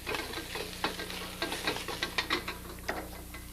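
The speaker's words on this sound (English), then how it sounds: "Stir fry this around a bit." Food is stir-fried in a wok. A spatula scrapes and clatters against the metal in a quick, uneven rhythm over a steady low sizzle, close and moderately loud, with no talking.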